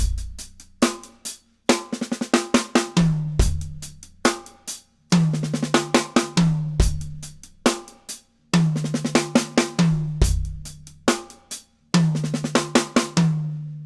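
Acoustic drum kit playing a steady sixteenth-note hi-hat groove with snare backbeats, repeatedly breaking into a short Motown-style fill on the toms; crisp, close and loud, with no talking.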